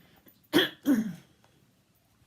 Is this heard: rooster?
no